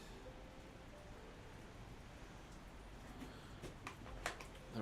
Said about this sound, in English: The rain sounds brutal